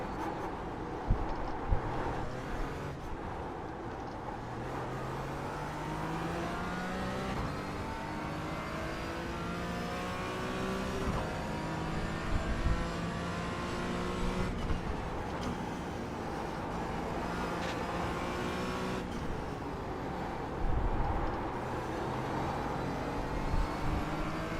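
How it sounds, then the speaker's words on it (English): A faster race car at the Nürburgring 24-hour race approaches and passes, its engine revving and shifting through gears against constant wind-buffeted cabin noise, rising to a louder pass before fading. "Faster car coming up quick."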